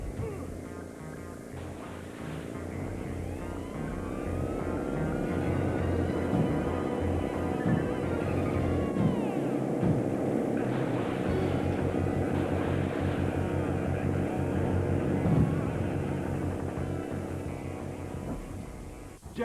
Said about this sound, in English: Your bikes are equipped with fetching miniature jet engines